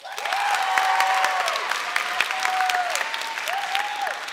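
A church congregation applauds to vote on an answer, a full burst of clapping that swells quickly and holds steady, mixed with a few vocal murmurs and faint cheers from the crowd.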